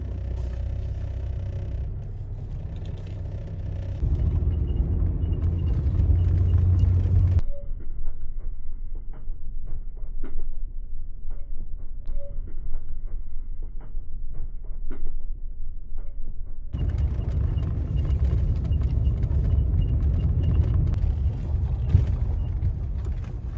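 A Nissan Frontier pickup with an emissions code P0455 fault runs on a back road, giving a steady low engine and road rumble that thins out midway and then swells back to a full, loud drone.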